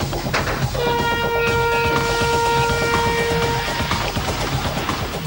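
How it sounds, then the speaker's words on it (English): Kingda Ka roller coaster train launching at night during testing, building toward 206 km/h: a loud, steady roaring rush overlaid with sustained whining tones that hold for several seconds before fading. "They begin launching the train at slow speeds, easing their way up to 206 kilometers per hour."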